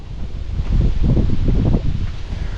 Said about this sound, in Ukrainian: бо дуже сильний вітер